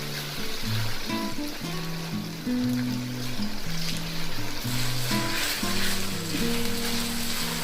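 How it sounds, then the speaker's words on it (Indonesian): Cooking oil starting to boil in a pan with kaffir lime leaves for sambal: a steady, close, hissing bubble that runs throughout beneath tonal background music. "ini sudah mulai mendidih minyaknya"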